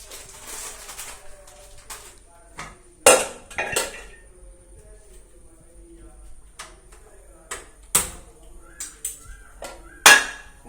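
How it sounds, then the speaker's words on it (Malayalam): A metal pressure cooker is set onto a kitchen stove before popcorn is made, producing scattered sharp metallic clanks and knocks, close and fairly loud, separated by quiet pauses. "നമ്മൾ കുക്കർ അടുപ്പിൽ വയ്ക്കുകയാണ്"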